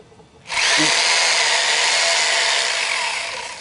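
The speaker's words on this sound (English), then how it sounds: "drill a hole" A hammer drill starts abruptly and bores into masonry, running loud and steady for about three seconds, its high grinding whine fading slightly at the end.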